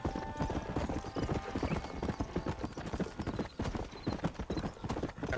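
Horse hooves pounding at a steady gallop in the Western video game Red Dead Redemption, a rapid, continuous clip-clop rhythm that stays loud and close throughout, with a brief whinny and faint game ambience beneath.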